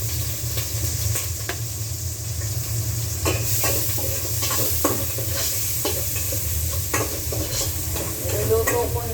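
Onion and garlic frying in a pan before crab meat goes in, making a constant strong sizzle under a low steady hum, with occasional stirring scrapes, close by.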